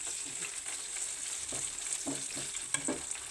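A couple of bay leaves frying in oil in a pan, a steady close sizzle with soft crackles and a few stirring scrapes and clicks, no talking.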